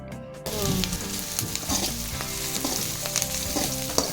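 Ginger and garlic with onion and green chillies fry in a pan for vegetable fried rice, a loud close sizzle starting after a quiet moment, with repeated spatula scrapes and clinks through it, no voices.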